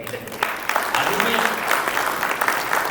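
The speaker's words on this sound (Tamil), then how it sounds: "5 நிமிஷத்தில் அழகாக பேசுனதுக்காகவே ரம்யாவுக்கு ஒரு கைதட்டு" An audience at a Pongal village event claps for Ramya, a dense, lively patter of many hands building quickly and holding steady, fairly loud and close, with voices mixed in.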